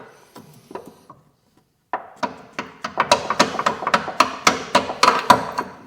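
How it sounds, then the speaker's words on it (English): A tiny hammer taps on a rusty wishbone on a Vauxhall Corsa C. After a few soft knocks there is a short pause, then a quick, regular run of close, sharp metallic taps. "I'm going to use a tiny little hammer like this and just give it a little tap"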